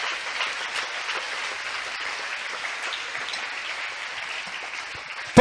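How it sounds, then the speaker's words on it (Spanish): A church congregation at a Spanish-language sermon applauds in a steady, even wash of clapping at moderate volume, continuous throughout with no speech over it. "Regálele un aplauso al Señor en esta hora."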